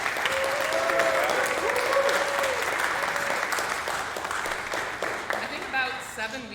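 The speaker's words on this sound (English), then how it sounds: "So let's give them a huge round of" Dense audience applause fills a room at a university esports awards ceremony, steady clapping that gradually thins toward the end while a voice speaks over it.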